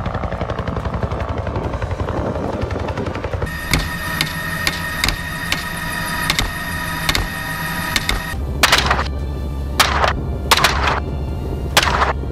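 Helicopter flying over cover during a wild boar hunt, its rotor and engine drone steady and fairly loud throughout, with sharp impulsive bangs and knocks breaking in toward the end.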